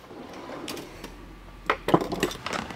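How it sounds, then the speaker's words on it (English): An Allen wrench working a bolt on a motorcycle clutch slave cylinder, heard as a few quiet metallic clicks and taps, sparse at first, then clustered ticks near the end, close and faint. "So now we can grab our Allen wrench."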